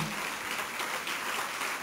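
An audience at the Salone del Libro 2019 presentation in Turin fills the room with continuous, dense applause, steady and moderately loud throughout the short stretch.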